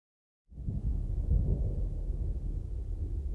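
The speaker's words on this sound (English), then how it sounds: "This storm that's coming in right now is wild." Thunder from a thunderstorm during car camping breaks in suddenly out of silence and rolls on as a deep, continuous rumble at steady loudness, with no voices.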